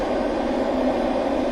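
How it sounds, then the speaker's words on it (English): A spirit box device used in a paranormal investigation gives out continuous, dense white-noise hiss, steady and fairly loud with no breaks or voices. "a device called a spirit box to try and make contact with any paranormal entities. The white noise can be used by spirits to communicate with us."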